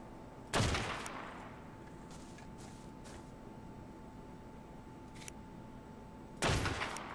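Gunshots ring out in ARK: Survival Evolved, two loud, sharp blasts several seconds apart with echoing tails and a few faint distant reports between them.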